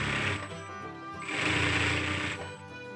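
A sewing machine stitches along the edge of a baseball jersey shirt under the presser foot, with two loud runs of rapid, buzzing stitching separated by a short slowdown.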